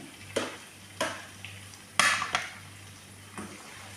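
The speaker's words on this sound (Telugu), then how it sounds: "వీటిని కూడా బాగా కొంచెం 2 minutes ఫ్రై చేసుకోండి" Carrot and tomato pieces frying in a pan give a soft continuous sizzle, broken by several sharp clinks and scrapes of a utensil stirring against the metal, close and moderately quiet.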